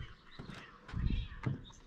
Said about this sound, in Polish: Koty się tłuką ostro.